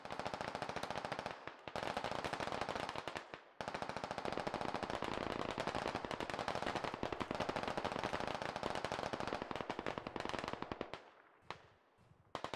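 Sustained automatic gunfire in the military shooter game Squad, loud and close, with rapid bursts running almost continuously, two short pauses, then tapering to scattered shots at the end.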